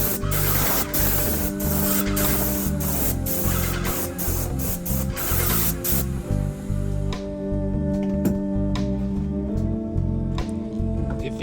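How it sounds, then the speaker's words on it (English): Ready Seal wood stain sprayed onto a pressure-washed wood deck, a strong continuous hiss with a pulsing sprayer motor that thins out and fades toward the end. "I just cranked it up. I just pretty much just sprayed it."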